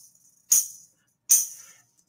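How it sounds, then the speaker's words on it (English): Two crisp jingling shakes from a tambourine played with the foot, about a second apart, each a bright metallic splash that fades quickly into silence. "This is a tambourine. I was playing it with my foot."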